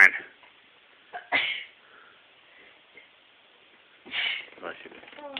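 A person sneezes sharply, with a short sniff and another sneeze-like burst following, heard close in a quiet room.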